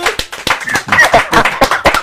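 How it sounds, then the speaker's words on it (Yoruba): An audience in a hall claps in a quick, uneven patter of sharp slaps, fairly close and loud, with voices mingling through the applause. "ẹ pàtẹ́wọ́ fún wọn"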